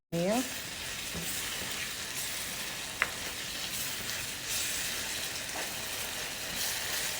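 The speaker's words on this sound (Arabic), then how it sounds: "وعندي هنا معجون طماطم بسم الله، نقلب شوية." Tomato paste sizzling in an oiled pan, a continuous close hiss broken by a few light scrapes and clicks of a spoon stirring, with no talk.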